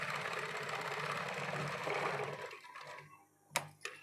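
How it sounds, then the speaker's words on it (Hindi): Sewing machine stitching a dress collar, running in a fast even whir for about two and a half seconds, then stopping, followed by a couple of sharp clicks. "यहाँ पर मैं स्टिचिंग कर दूँगी।"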